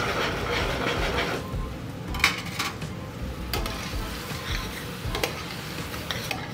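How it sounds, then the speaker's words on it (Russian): Chicken pieces frying in a pan for a chicken-in-sauce dish, giving a steady close crackle and sizzle with occasional sharp clicks of a utensil stirring against the pan. "здесь мы все обжариваем"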